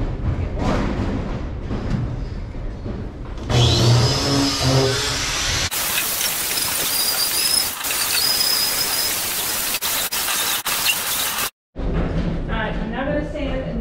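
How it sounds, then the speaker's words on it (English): A wire brush on a drill scours trailer metal in a long, loud, raspy whir, running several seconds with slight shifts in pitch, with broadband scraping noise before and after the run. "Got my wire brush on. I'm gonna go do some cleaning of the metal."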